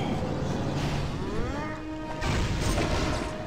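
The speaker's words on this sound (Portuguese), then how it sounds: "Energia, uma explosão de energia também." An energy explosion attack in the Marvel Ultimate Alliance video game bursts as a loud, dense roar lasting several seconds, with rising tonal sweeps threading through the blast.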